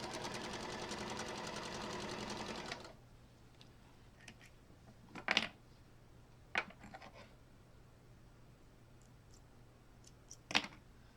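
A sewing machine stitches fabric seams in a steady, dense mechanical run for about three seconds, then stops, leaving a quiet room broken by a few sharp clicks and handling noises.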